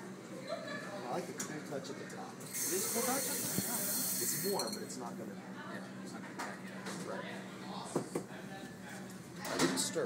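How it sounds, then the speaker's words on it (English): An espresso machine's steam wand steaming milk in a cafe, a bright steady hiss that swells for a couple of seconds, with people talking and clinking around it. "Yeah, totally should be steaming while it's going."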